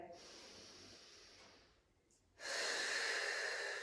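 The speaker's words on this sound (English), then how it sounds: "Just take a couple of deep breaths there." Deep breaths during a core and upper body strength workout: a long, airy inhale tapers into a brief pause, then a loud, forceful exhale follows, close and alone.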